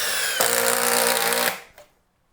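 Makita 40V XGT impact driver sinking a 3-inch construction screw into MDF in bolt mode 3, a loud close whirring hammering burst of about a second that winds down, with no talk.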